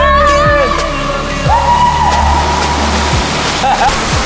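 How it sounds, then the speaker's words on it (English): Steady rushing water flows continuously down a water slide in a luxury bunker, a broad wash of noise with occasional knocks and a whistling tone on top, no talking. "That just turned on the water. Do you hear that?"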